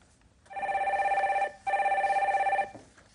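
A telephone rings as a caller is put through on a live call-in stock advice broadcast, giving two clear electronic trilling bursts separated by a short gap, with no voices.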